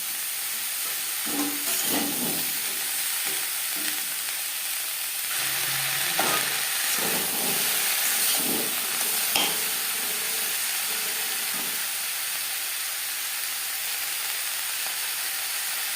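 Flat beans tossed with onions in a hot pan, a continuous loud sizzle and hiss with intermittent stirring scrapes and clinks throughout.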